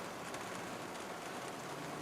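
Steady rain falls outside, a dense even hiss with soft patter of drops that runs without a break through two seconds, with no voices over it.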